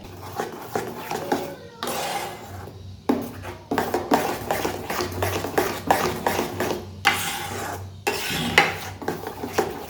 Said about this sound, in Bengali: কড়াইতে বাদামের পেস্টটা দেওয়ার পর এটাকে কন্টিনিউ নাড়াতে হবে, নাহলে তলায় লেগে যেতে পারে।